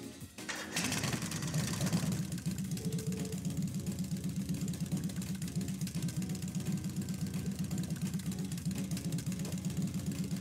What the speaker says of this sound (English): First is starting up the engine.